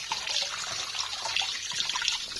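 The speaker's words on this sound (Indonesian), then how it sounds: "Aku ngilanginnya pakai air mengalir ya." Running tap water rinsing soap off, a steady broadband splashing stream that holds close and even throughout, with no voices over it.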